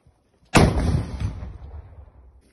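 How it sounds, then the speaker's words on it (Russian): A single loud, sharp weapon blast cracks out after a short silence during an ambush on tanks in Kyiv Oblast, Ukraine, followed by a rumbling echo that slowly fades away. "Выстрел."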